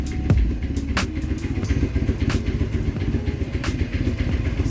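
A Kawasaki KZ440 motorcycle idles while it warms up after a choked start, chugging close by in a steady rhythmic putter with a little mechanical clatter. No one talks over it.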